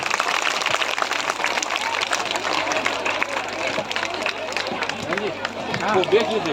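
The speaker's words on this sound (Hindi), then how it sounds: "तालियां बजाइए, तालियां, तालियों में कंजूसाई मत कीजिए।" Steady, dense applause from a large crowd fills the whole stretch, with a murmur of voices mixed in.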